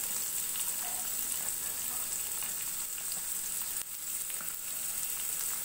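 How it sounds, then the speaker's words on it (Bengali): Bay leaf, onion and garlic fry in hot oil with a steady, dense sizzle that holds at an even loudness throughout, with a brief dip partway through. "আমি চুলায় তেলটা গরম হতে দিয়েছি, তো এখানে আমি দিয়ে দিলাম তেজপাতা, তারপরে আমি দিয়ে দিচ্ছি পেঁয়াজ, দিয়ে দিচ্ছি রসুন"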